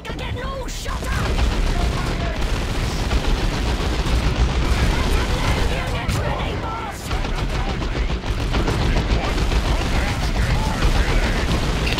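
Dense, continuous rapid gunfire and explosions from the Dawn of War 2 Retribution video game, a loud unbroken barrage of shots and booms throughout.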